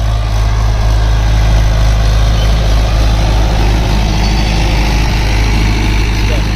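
A tractor pulling a disc harrow through a farm field runs its engine hard, a loud, steady low diesel drone that holds unbroken for the whole stretch.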